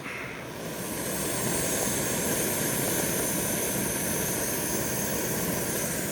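A camping stove burner turned up high under a covered pot of water at a campground roars as a steady, loud broadband rush, swelling after the first second and holding evenly with no talk.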